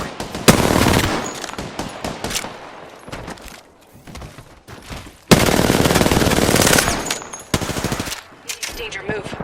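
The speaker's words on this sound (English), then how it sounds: "Getting shot at." Machine gun bursts in Apex Legends: sharp rapid volleys come in several loud, close stretches separated by pauses, with occasional game voice lines between them.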